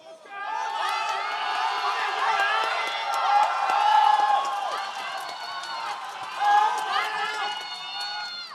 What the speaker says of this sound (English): The Hong Kong crowd making us go deaf again